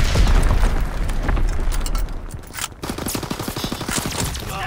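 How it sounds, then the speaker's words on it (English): Mortar rounds firing in Call of Duty WWII, a loud rumbling barrage of booms and bursts followed by a quick rattling run of shots, continuous and close. "Sending mortar rounds."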